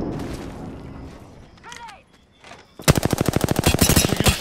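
Rapid automatic gunfire from an Apex Legends firefight bursts in loud and close for the last second and a half, a steady stream of sharp shots following quieter, muffled game noise and a voice.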